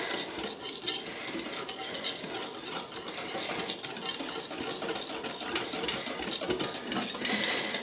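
A spoon steadily stirs a tiramisu mixture with vanilla sugar in a bowl, giving a continuous close scraping and swishing with no pauses.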